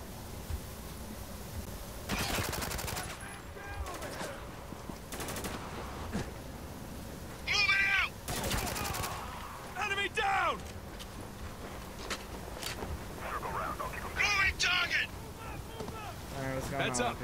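Gunfire in the Spec Ops: The Line video game comes in short scattered bursts over a windy desert backdrop, moderately loud, broken up by shouted voices between volleys.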